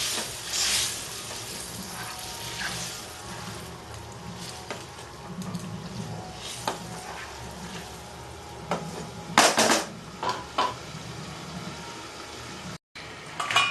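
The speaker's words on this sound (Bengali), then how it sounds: "এবার আমি পুরো জলটা দিয়ে দিলাম" Hot boiled water poured into a pan of Bengali egg curry with potatoes and spices, a steady hiss and sizzle with occasional louder splashing bursts and clanks close by.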